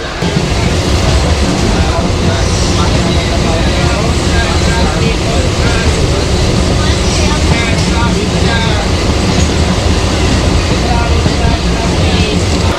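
A Howrah–Arambagh local passenger train rumbles steadily at close range, a dense continuous roar of wheels and engine with a faint murmur of voices underneath.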